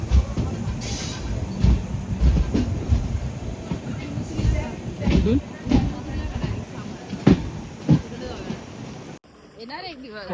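Steady train rumble with clanks and wheel squeals, a few sharp bangs, and people talking nearby in a busy station.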